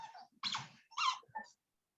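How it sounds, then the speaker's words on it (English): A dog plays with a squeak toy under a chair indoors, producing a few short squeaky bursts in quick succession, close and moderately loud, then quiet. "Our dog's got a squeak toy right under my chair."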